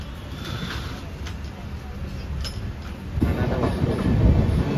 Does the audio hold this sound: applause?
no